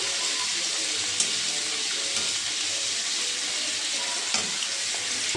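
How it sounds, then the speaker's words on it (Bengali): Fish frying in a pan with salt and turmeric, a dense continuous sizzle heard close and fairly loud throughout, with a few soft clicks and no talking. "তো মাছটা ভাজার কাছে তুলে নিই"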